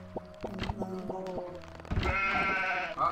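Sheep bleats in the video game Son of a Witch 2 come as a few short, wavering calls over game effects, close and moderately loud.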